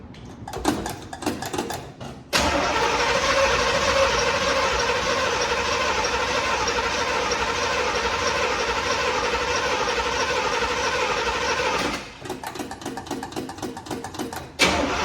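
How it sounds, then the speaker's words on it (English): A 1981 Pontiac Trans Am V8 with no choke hookup cranks in rapid stuttering bursts, then catches and roars into a loud, steady run for about ten seconds before dropping back to uneven cranking pulses. "Let's just see if it'll crank up."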